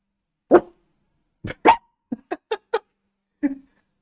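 A dog named Melon barking indoors at a noise outside: a loud close bark, another pair, then a quick run of four short yips and one last bark, with clear gaps and no talk.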